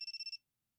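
A phone rings in a visual novel video game, with a rapid trill of about six electronic beeps that cuts off after less than half a second, clean and alone.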